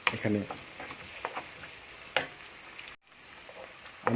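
Chopped onion and garlic fry in oil with a soft sizzle, broken by intermittent stirring clatters and one brief dropout near the end.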